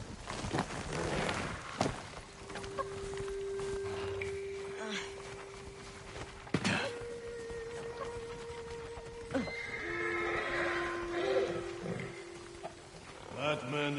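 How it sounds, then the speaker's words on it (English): Horses in Ghost of Tsushima neigh and whinny several times, with a light clip-clop of hooves walking beneath, set against steady ambient game sound. "Follow those horses."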